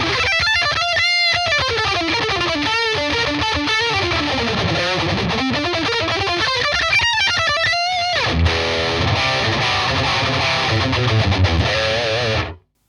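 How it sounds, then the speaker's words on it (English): High-gain electric guitar played dry through a Peavey Vypyr 75 amp with no reverb, delay or stompbox effects, loud, dense distorted riffing with sustained chords and fast palm-muted chugging, running continuously until an abrupt stop. "So this is bone dry, there's no reverb or delay, and there's none of the stump boxes added in as well. This is just the amp as is."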